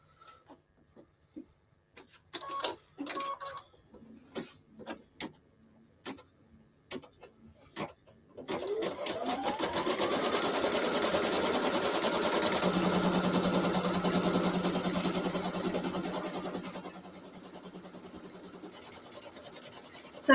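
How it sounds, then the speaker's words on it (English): A Brother Essence 2300 sewing machine stitches an embroidery design through stabilizer and batting for a striped handbag, starting with scattered ticks and clicks before settling into a loud, steady mechanical whir that later drops to a softer hum. "So this machine that Martin is sewing on is the Brother Essence 2300."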